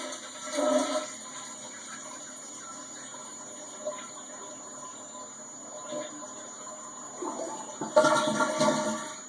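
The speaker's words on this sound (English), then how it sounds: "We're going to go ahead and flush." Toilet flushing as the tank empties during a float valve replacement, an initial rush of water followed by a quieter draining trickle and a second surge near the end, close by with no talk.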